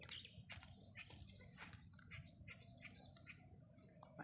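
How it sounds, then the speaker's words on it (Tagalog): Noisy calls of gagatwig birds, black birds with white-marked feathers, chatter in a rural farm setting, a dense run of repeated chirps over steady insect buzz, moderately distant and continuous throughout. "naririnig nyo ba yung mga tunog ng mga ibon? Ano yan, yung maingay na yan, yung gagatwig ang tawag namin dyan."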